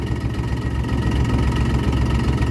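A diesel engine with worn injectors idling roughly, a loud, steady low rumble with an uneven, slightly lumpy pulse and no voices.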